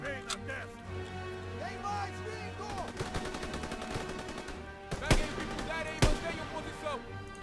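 Gunfire in the World War II shooter Call of Duty WW2: a rapid run of shots fired in the middle, then two sharp, loud cracks near the end, with game music and voices underneath.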